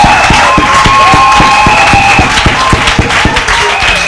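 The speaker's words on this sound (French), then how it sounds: "Applaudissez pour le chiffre. Applaudissez." Congregation at a church service clapping together in a steady rhythmic beat, close and loud, with a dense crowd hum and voices underneath.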